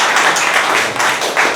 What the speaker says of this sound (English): Please have a round of applause for.